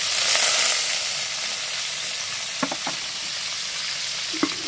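Raw, unmarinated paneer pieces sizzle in hot oil with a steady, dense frying hiss, broken by a few soft clicks of turning or stirring; close and continuous, no voices.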